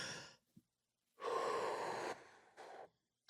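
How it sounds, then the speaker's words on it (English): Slow, deep calming breath: a long steady exhale swelling and fading over about a second, followed by a shorter second breath, close and clear with quiet pauses around it. "we use the phrase taking a hot cocoa breath"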